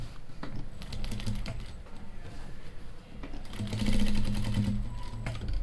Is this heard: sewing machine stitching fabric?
yes